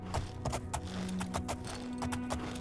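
Horse hooves clip-clop in the video game Oblivion, a quick run of sharp rhythmic hoofbeats over a few seconds, close and clear, with no speech.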